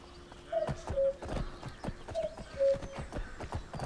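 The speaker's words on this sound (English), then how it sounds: "Now my horses are going crazy" Horses in the fantasy game Wildlander clatter with quick clip-clop hoofbeats and short, agitated whinnies, fairly close, with a faint tonal game hum underneath.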